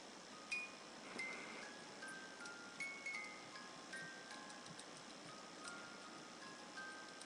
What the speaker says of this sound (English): Here's the toy music box. It's operated by a crank.